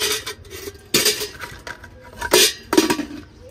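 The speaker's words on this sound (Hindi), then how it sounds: "ये रखे हैं बर्तन, टोकरी ये रखी है, टोकरी निकालते हैं।" Pots and metal utensils clatter and clink as a basket is pulled out in a home kitchen, with several sharp bursts of handling noise in an uneven rhythm and no talk.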